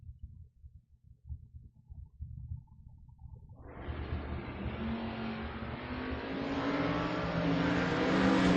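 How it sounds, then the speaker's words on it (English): Convertible Porsche launching in a drag race: a low idle rumble breaks into a loud, rising engine roar that keeps building and climbing in pitch as the car accelerates away hard, with no talk. "574, taking on Dan Galinas here, tower side, 625 in the convertible Porsche"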